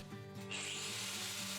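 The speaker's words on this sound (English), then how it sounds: "Using some 80mm flat bar, I'm drilling some 10mm holes." A power drill bores 10mm holes into 80mm steel flat bar for a BBQ smoker build, a steady whirring grind that rises in pitch and holds close and loud for a second or so.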